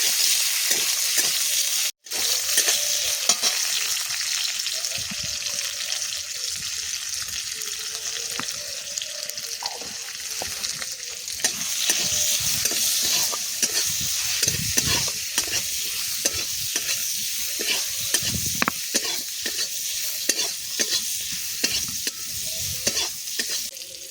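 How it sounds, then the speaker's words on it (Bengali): Raw mango pieces with spices and turmeric are stir-fried in a pan for a Bengali fish-roe mango chutney, giving a steady sizzle under repeated spatula scrapes and knocks, close and continuous throughout, with no talk. "এবার হলুদ দিয়ে 2 মিনিট নেড়ে চেড়ে নেব।"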